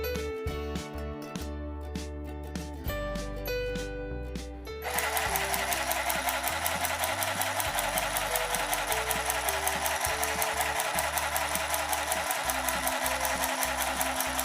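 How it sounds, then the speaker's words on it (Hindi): A Brampton portable sewing machine stitches through four layers of fabric: after a few seconds of clunky, uneven starts, a fast, steady mechanical whir and rattle runs continuously and loud to the end. "इसके बाद सिलाई मशीन को यूज़ करने के लिए हम स्टार्ट कर सकते हैं"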